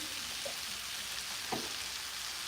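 Frozen corn cooking in a pan, a soft continuous sizzle and crackle with a single faint utensil knock partway through.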